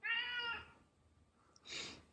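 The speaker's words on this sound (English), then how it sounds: "Cat." A cat gives a faint, clear meow followed by a short breathy second call, both quiet and slightly distant in an otherwise calm room.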